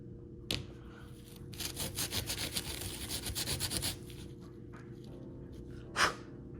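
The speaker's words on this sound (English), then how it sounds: "I'm just gonna scuff this down and then just paint it with the" Scuffing a 1/25 scale AMT 2009 Corvette model car part by hand before primer produces a quiet rhythmic rubbing, a burst of close scraping strokes in the middle, then a single soft knock near the end.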